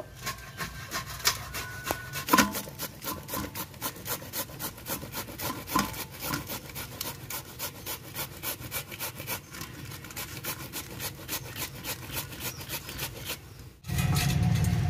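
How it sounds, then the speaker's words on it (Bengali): A young bottle gourd is rubbed against a hand grater in steady, rhythmic rasping strokes, close and fairly quiet, continuing for most of the stretch before a brief change in handling near the end. "লাউটা এখন ঘষে নেব।"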